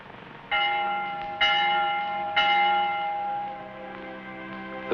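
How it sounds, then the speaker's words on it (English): A church bell rings for vespers, three clear strikes about a second apart, each ringing out with a long, bright, sustained tone that overlaps the next, heard alone without voices. "The Vespers bell."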